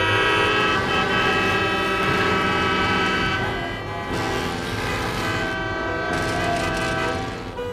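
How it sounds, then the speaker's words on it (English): Loud horns blare over rumbling traffic, sustained tones overlapping then easing off, with a brief dip partway through. "You hear honking, you hear cars."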